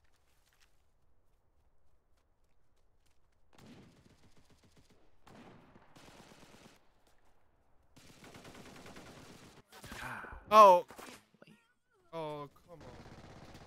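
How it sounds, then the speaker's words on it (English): Enemy gunfire in a shooter video game cracks out in scattered shots amid quiet stretches. A couple of sharp, loud bursts come near the end, and a person speaks briefly over it. "I'm being shot from 300 northwest."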